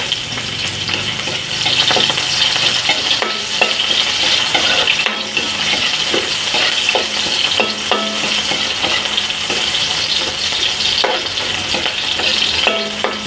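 Onion sautéing with garlic in a pan for stir-fried bitter gourd, a loud steady sizzle broken by frequent scraping and clinking spatula strokes against the pan, close up with no voices.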